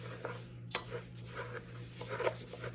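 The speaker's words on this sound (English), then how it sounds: "I'm going to mix them up." Granola ingredients with vanilla powder being stirred in a bowl with a utensil instead of a spatula, light scraping and clinking taps with a couple of sharper knocks, close and moderately quiet over a faint steady hum.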